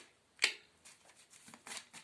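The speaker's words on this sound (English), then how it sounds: "I'm going to shuffle some cards for you" Tarot cards are shuffled by hand, giving a sharp riffle snap followed by several softer, quick flicks and rustles, close and quiet.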